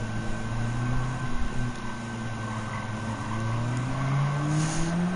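A yellow Nissan S15 Silvia in Gran Turismo 7 drops from fifth gear to second, its engine droning steadily and rising in pitch as revs climb, loud and continuous with no one talking.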